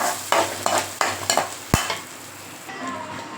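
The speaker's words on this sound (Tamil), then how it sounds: "இந்த எண்ணெயிலே நல்லா வதங்கட்டும்" Onions sizzle in hot oil while a spoon scrapes and taps against the pan several times, a sharp knock near the middle, while cooking sambar without dal.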